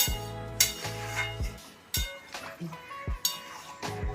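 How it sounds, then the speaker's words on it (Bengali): A spoon stirring a dish in a home cooking pot, with a run of bright metallic clinks and scrapes against the pot at an uneven rhythm, close and clear, with no talk over them. "নাও, সুন্দর করে নাড়িয়ে দাও।"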